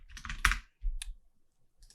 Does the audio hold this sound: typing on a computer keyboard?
yes